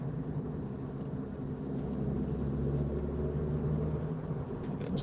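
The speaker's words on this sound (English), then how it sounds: "Drop it down to third though, just go up the hill." Car engine pulling uphill after a downshift to third gear on an autumn drive to Stalybridge, a steady low rumbling drone that holds constant and close inside the cabin, with no talking.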